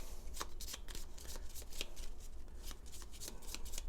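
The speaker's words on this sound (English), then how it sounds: "I forgot to shuffle since I had my miss over here" A deck of cards is shuffled during a Gloomhaven board game session, giving a dense, fast riffling flutter with repeated bursts. It is close and fairly soft, with no voices over it.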